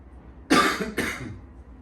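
Two sharp coughs in quick succession, close and fairly loud, with a quiet background and no speech.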